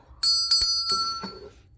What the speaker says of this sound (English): And then the school bell